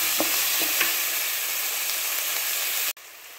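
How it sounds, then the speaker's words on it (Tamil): Masala with turmeric sautéing in a pan, a close steady sizzle with a couple of light stirring scrapes early on, cutting off abruptly near the end. "கொஞ்சம் போது மஞ்சத்தூள், இதை சேர்த்து நல்லா இதை வதக்கிக்கிங்க"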